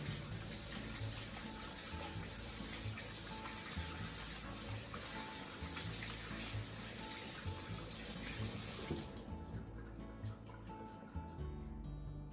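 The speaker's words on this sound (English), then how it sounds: "Let's rinse under running water." Shrimp being rinsed under a running kitchen tap, a steady close splashing stream that cuts off near the end, leaving faint handling noises.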